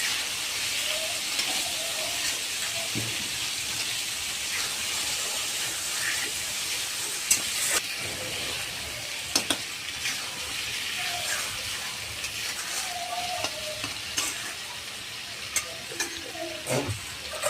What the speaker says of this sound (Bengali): আদা রসুনটা একটু ভাজা ভাজা হয়ে আসবে।